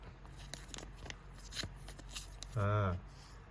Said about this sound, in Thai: ถุงแก้วก็คือถุงพลาสติกแบบนี้นะครับ